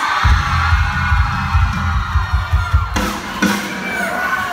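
Concert crowd at a show roars continuously with cheering and shouting, a dense, loud wash of voices over a pounding low thump, with a sharp burst of louder yells near the end.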